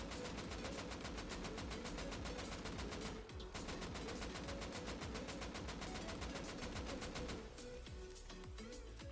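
Rapid full-auto AK assault rifle fire in Rust Console Edition, a steady loud stream of evenly spaced shots emptying a whole magazine at long range, with a brief pause midway.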